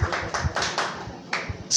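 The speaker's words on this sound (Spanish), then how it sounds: "Un aplauso para ustedes mismos" A church congregation claps in a brief, sparse burst of separate hand claps, fairly close and uneven in rhythm, with a sharp tap near the end.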